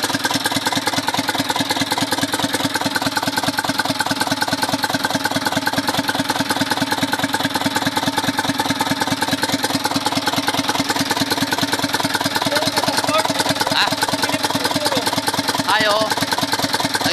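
An Isuzu Elf truck's 4HL1 diesel engine runs with a steady, rapid knocking idle pulse. It stays loud and constant from start to finish, and faint voices come in near the end.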